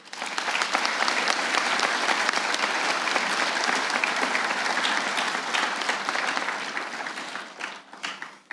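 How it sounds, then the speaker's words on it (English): Sustained applause from a graduation ceremony audience honoring the parents, dense steady clapping filling the hall for about eight seconds before tapering off at the end. "let's give them a round of applause"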